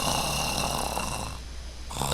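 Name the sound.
father snoring in a video game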